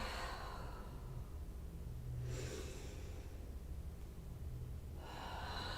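Slow, deep breaths drawn in and let out during a yoga stretch class, three long airy swells spaced a couple of seconds apart, close and soft over a quiet room, with no talking.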